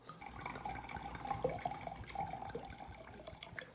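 Wine poured into a measuring cup while preparing a Valentine's Day cake batter, a steady liquid trickle and splash lasting a few seconds at close range, with no talking.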